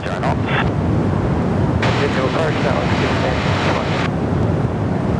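A fixed-wing aircraft roars on its takeoff run at Perth Airport, a loud, broad, sustained engine rush with wind buffeting the microphone, while a voice talks over it.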